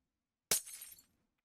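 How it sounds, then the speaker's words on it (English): A glass-breaking sound effect from an FL Studio beat: one sharp, bright shatter bursts in after silence, then a short spray of tinkling shards fades within about half a second. "And that's glass breaking."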